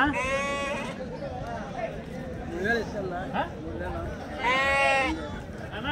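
Goats bleat at a busy livestock market in Cheluru, Karnataka, with two loud wavering calls near the start and end and softer bleats between, all over a steady crowd murmur and people talking nearby.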